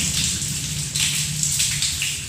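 Steady running water splashing and rushing close by as hands are rinsed, with a few brighter gushes as hands move under the stream.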